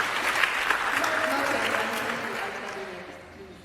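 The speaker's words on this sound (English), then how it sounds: "Clap for that." An audience at a Bitcoin conference in Kenya claps together in sustained applause, dense and loud at first, then gradually thinning and fading out.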